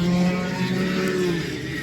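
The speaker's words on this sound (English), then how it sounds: "wow, those cars are loud." Racing karts, including a shifter class, run loudly past a trackside corner, a steady buzzing engine drone with a slowly shifting pitch.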